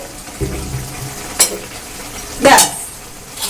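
Cabbage cooked with fish head is stirred in a pan: a low sizzle runs underneath while two sharp scraping clanks of the utensil stand out close and loud.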